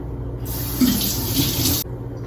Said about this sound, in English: then I always wash my hands after cracking an egg.